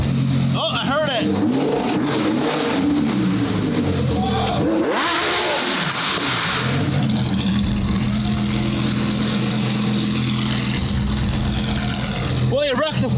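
A Lamborghini EVO2 engine rumbles loudly at idle and rises into sharp revs, rising and falling several times up close, with a person talking over the engine noise.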